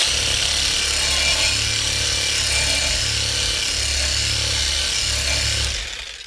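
An AL-KO cordless reciprocating saw runs with a steady, loud buzzing drone for several seconds, then winds down and cuts off near the end.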